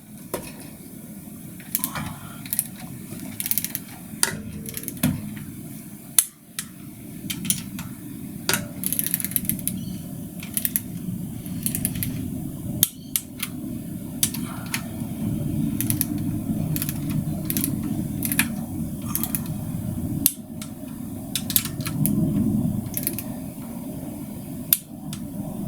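Torque wrench ratcheting as an Austin Healey 100/4 cylinder head is tightened down, steady clicking strokes close up over a continuous low workshop rumble, with occasional sharper clicks and pauses.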